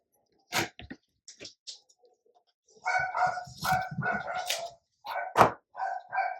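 Dogs barking in short separate yaps at first, then a louder run of repeated barks from more than one dog, fairly close outdoors, with a rooster-like call mixed in.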